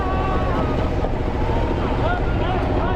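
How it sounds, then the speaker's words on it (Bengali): A speedboat motor drones steadily as the boat passes on Kaptai Lake in Rangamati, a dense rumble with wind and water wash throughout. "একটা স্পিড বোট যাচ্ছে।"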